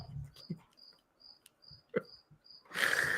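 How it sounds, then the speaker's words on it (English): A cricket chirps inside the wall of a room in steady, evenly spaced high pulses, with soft low bumps between them and a loud burst of broadband noise at the end. "I'm like purposely not answering when you stop talking just so you can hear the cricket sound"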